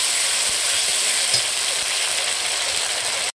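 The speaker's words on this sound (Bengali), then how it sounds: "সুন্দর করে আমি কষিয়ে নিচ্ছি মশলাটা।" Spices and chopped onion sizzle and fry steadily in a pan while being sautéed for a green jackfruit curry, a constant close hiss with faint stirring scrapes, cutting off abruptly just before the end.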